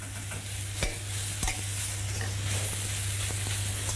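Peppers and shallots fry in olive oil over fierce heat, giving a steady, close sizzle with a couple of sharp utensil knocks against the pan.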